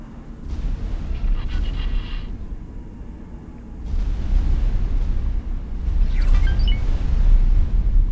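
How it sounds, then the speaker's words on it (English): A low, rumbling explosion at a dock in the space game X4: Foundations, with sustained heavy booming and roaring that swells louder toward the end. "there was an explosion coming from the dock"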